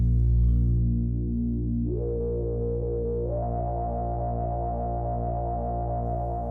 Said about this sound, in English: first we want to use the SSM filter because it's definitely the nicest filter for doing pads